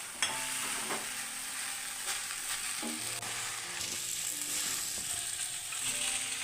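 Scrambled egg being added to butter noodles in a pan, frying with a steady bright sizzle throughout and a few soft clicks of stirring, close and continuous with no talking.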